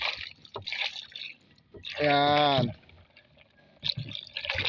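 Clean water poured into a container, a burst of rising gurgling splash lasting under a second, heard between stretches of close talking.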